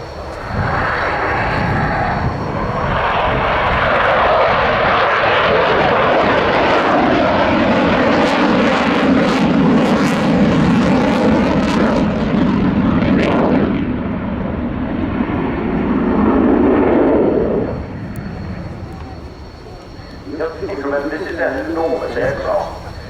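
A Boeing F-15QA fighter jet roars through a flying display at RIAT 2024, its loud engine noise swelling and sweeping as it passes, then fading away near the end.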